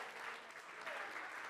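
Church congregation clapping steadily for a short moment, a soft, even patter of many hands at moderate distance with no voices over it.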